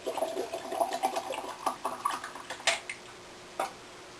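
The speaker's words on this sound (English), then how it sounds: "we're just going to fill up our jars with the hot water up into the rim." Hot water poured into canning jars filled up to the rim, a series of splashing, gurgling pours with short pauses and a few clinks, close by with no talking.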